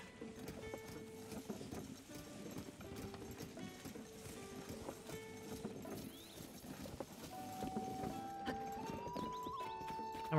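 Steady horse hoofbeats clip-clop at a walking pace in Zelda: Tears of the Kingdom over soft background music, with a brief whinny near the end.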